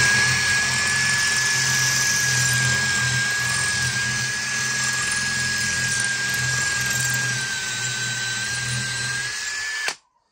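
A cordless drill in drilling mode without hammer, using a masonry impact bit, whines steadily and continuously at close range for about ten seconds, grinding into masonry before stopping abruptly.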